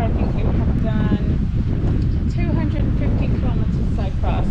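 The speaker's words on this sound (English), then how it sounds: "Hope that the wind isn't too bad. Pretty windy." Strong wind buffeting the microphone in a constant roar during a ride, with a voice talking intermittently underneath.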